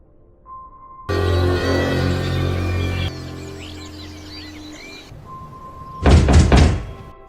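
In a horror film scene in an old house, a door is forced and thumps heavily: a loud sustained rumble, a quieter stretch, then a burst of sharp, close knocks and bangs.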